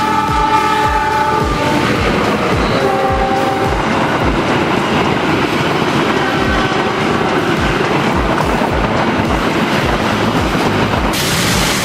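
On Jalan Ahmad Yani, a passing train sounds its horn over loud, continuous rolling noise and rhythmic clickety-clack of wheels on rail joints, close and dominant throughout with no voices.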